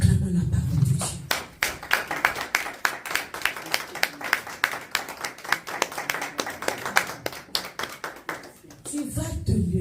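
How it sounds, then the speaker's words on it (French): A church congregation claps together in a steady, rhythmic burst of applause lasting several seconds, loud and close, with voices heard briefly at the start and end. "Acclamons la parole de Dieu"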